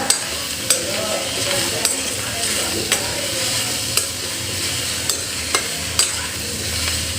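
Onion sizzling in oil in a pan for tomato chutney, a steady loud crackling hiss with about eight sharp scraping clicks of a spoon stirring at a loose, regular pace.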